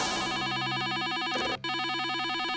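A cartoon telephone rings loudly and continuously, a warbling electronic trill that repeats steadily with one brief dropout, no voices.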